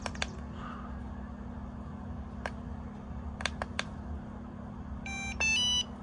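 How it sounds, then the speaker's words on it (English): A few scattered clicks over a steady low hum, then a short burst of loud electronic beeps from a BetaFPV LiteRadio 4 radio controller powering on near the end. "You'll hear a beep."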